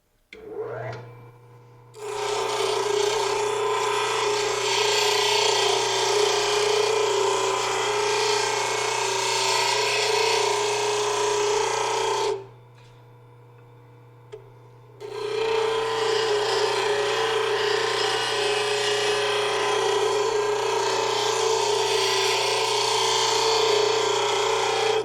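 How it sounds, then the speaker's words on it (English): A molding plane iron is ground to a scribed profile on a grinder, producing a steady harsh grinding rasp. Two long continuous passes are separated by a short quiet gap, with a low motor hum underneath and no talking. "For the initial grinding, we can grind it just at a right angle."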